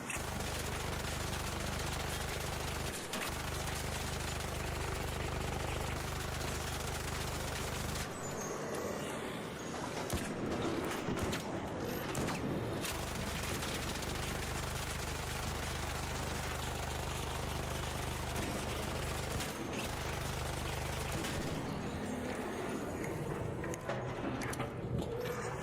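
Sustained automatic gunfire in the video game ARC Raiders fills the whole stretch, a dense, loud barrage of shots with short breaks and heavy low rumble.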